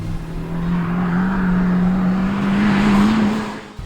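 A 2020 Honda Civic Type R's 2-liter turbo four-cylinder engine, about 300 horsepower, drones steadily as the car moves on a track, its pitch rising and falling slightly, loud and close with no talking.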